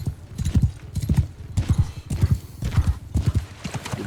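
Horses gallop in Mount & Blade 2 Bannerlord during a cavalry charge across marshy ground, with rapid, repeated hoofbeat clusters throbbing steadily and loudly over several seconds, plus a faint whinny amid the thudding.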